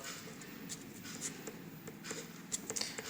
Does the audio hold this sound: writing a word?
yes